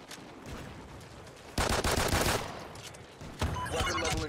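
Bursts of automatic gunfire in a Call of Duty: Ghosts multiplayer match on the Freight map, with loud broadband volleys of rapid shots in two main stretches and quieter firing between them.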